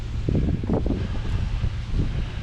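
Strong, gusting outdoor wind buffets the microphone in a steady, loud roar with rough surges, and no voices are heard.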